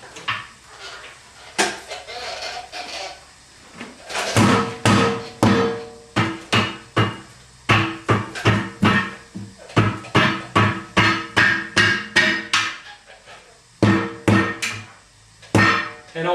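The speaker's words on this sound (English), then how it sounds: "I'll work the bead down with the hammer and the bar to get it to the next handhole" Hammer blows and a steel bar working the bead of a 22.5-inch truck tire onto its wheel by hand, loud metallic strikes in irregular rapid bursts with short pauses between runs.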